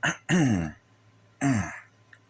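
A person clears their throat and coughs in two or three close, loud bursts, with brief quiet gaps between them.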